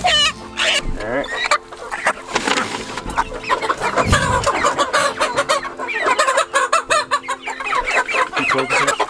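Chickens and a rooster cluck and squawk nonstop from transport crates as they are moved into a new coop in the rain, loud and close, with a person talking now and then amid the calls.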